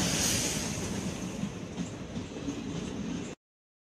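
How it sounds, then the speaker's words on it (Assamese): A train rolls past close by with a broad rushing roar and faint rhythmic wheel clatter, fading slightly before cutting off abruptly near the end. "train is coming"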